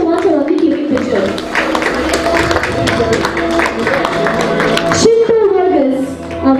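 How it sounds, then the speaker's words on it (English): Audience applause at an interior design awards ceremony in a hotel ballroom at Taj West End Bangalore, steady dense clapping filling the room, with a voice talking over it and a brief swell near the end. "Alright everyone, a round of applause"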